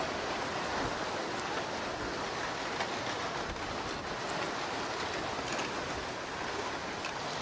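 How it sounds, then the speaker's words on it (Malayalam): Strong wind blowing outdoors where masala-coated food is being prepared, a steady, loud, broadband roar of gusts buffeting continuously throughout, with no talk. "നല്ല കാറ്റടിക്കുന്നു ഇവിടെ."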